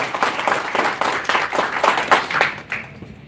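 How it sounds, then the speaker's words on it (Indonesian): Audience applause at a formal gathering welcoming a top national advocate to an Indonesian lawyers' council, steady dense clapping over about three seconds that tapers off toward the end. "Kita berikan aplaus yang mulia."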